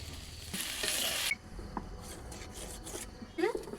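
Seasoned chicken for samosa filling drops into a hot oiled pan with a loud burst of sizzling that stops abruptly after about a second, followed by quieter scraping and stirring sounds and a brief voice in the background.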